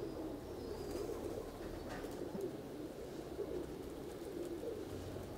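Soft, low cooing of pigeons repeats in a steady murmur against a faint background hum, with no voices.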